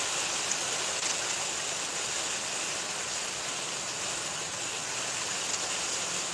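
Heavy rain pouring down in a steady, dense hiss that stays even and constant, fairly near, with no voices over it.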